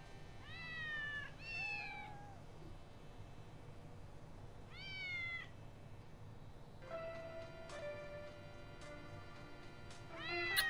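A cat in the video game Postal 2 meows several times in short, rising calls, some in quick pairs, over a quiet steady background hum.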